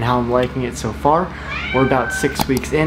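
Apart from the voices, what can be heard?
pet cat meowing in the background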